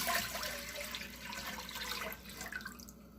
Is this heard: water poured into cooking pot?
yes